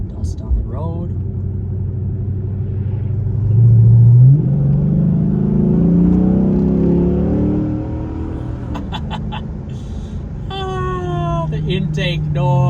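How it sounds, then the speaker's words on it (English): Chrysler 300C SRT8 engine intake roaring while driving, a deep, steady rumble that swells around the middle of the drive; a voice may be heard briefly near the end. "I'm totally okay with having less exhaust noise and more intake noise."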